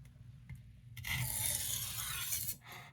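Eight-inch Sabatier chef's knife from France being sharpened, giving a faint rasping stroke of steel drawn across a sharpening surface, about a second and a half long, after a few soft taps.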